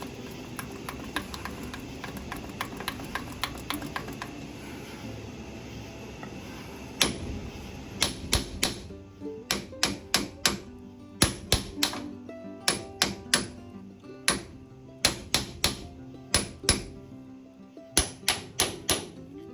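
A screwdriver used as a makeshift punch or chisel on a Jeep CJ5, making a series of sharp metallic taps under a steady background hum, the strikes coming in quick uneven runs and growing more distinct toward the end.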